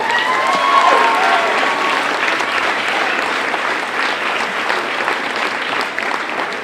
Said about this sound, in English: One more round of applause for Cameron